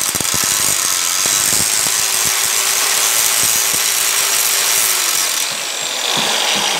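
A power tool grinding down a steel part for a homemade lathe steady rest, a loud continuous abrasive roar with uneven scraping bursts, dropping slightly near the end, with no talking.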